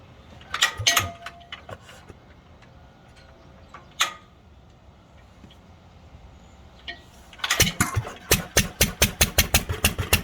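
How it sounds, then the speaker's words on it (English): A 90-year-old IHC LB hit-and-miss engine is cranked and fires a few scattered beats, goes quiet, then catches and runs with a loud, regular chuffing rhythm, close by. "Let's see if it'll start again that easy."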